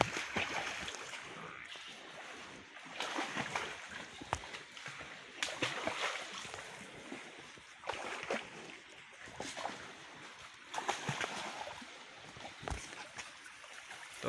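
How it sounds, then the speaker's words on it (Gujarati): Cows being washed in water in the Gir region, with faint irregular splashing and sloshing that comes in uneven bursts, heard from a moderate distance. "તો અહીંયા ગા ધોવે છે અને ગા ધોઈને આગળ સા બનાવી."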